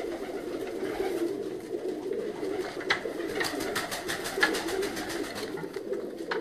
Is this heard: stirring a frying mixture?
no